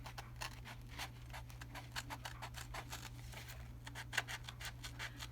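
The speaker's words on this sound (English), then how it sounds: "And I do better with the small scissors." Small scissors snipping through paper at a craft table, a steady run of crisp close cuts in slow irregular rhythm, with a low steady hum underneath and no talking.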